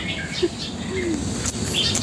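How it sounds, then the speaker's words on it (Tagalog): Birds chirp in a mountain garden, with several short, scattered calls at moderate distance over a soft outdoor background hum. "maririnig mo yung mga ibon, mga huni ng ibon"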